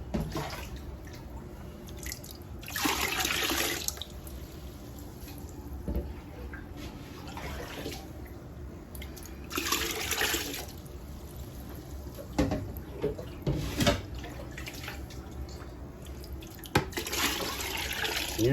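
A hand swishing and stirring water in a bucket used to rinse a Fluval 207 aquarium filter's media, giving repeated splashy surges and drips at close range between quieter pauses.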